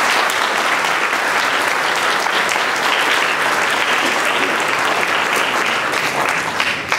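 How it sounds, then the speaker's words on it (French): Loud, sustained applause from an audience at a mayor's New Year address, a dense steady clapping that fills the whole stretch without pause. "ma première adjointe, Gisèle Leroy, qu'on peut applaudir bien fort."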